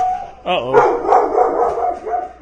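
Pet dogs in a home bark excitedly, a sharp close yelp followed by a run of loud barks and yips.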